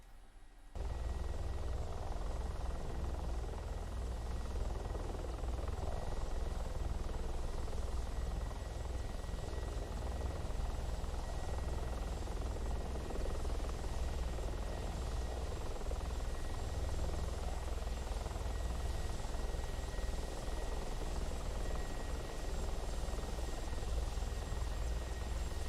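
A Mi-24P Hind attack helicopter in the DCS flight simulator, hovering and setting down for a landing, its rotor and turbine drone steady and loud throughout after an abrupt start, with no talk.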